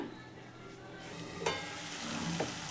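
Potatoes and cauliflower fry in a pan with a soft, continuous sizzle that builds slightly, marked by a couple of brief utensil knocks or stirs, close and fairly quiet.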